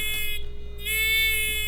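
Small littleBits electronic buzzer module, producing a thin, reedy, nasal tone that drops out briefly and then resumes steadily, close and fairly loud.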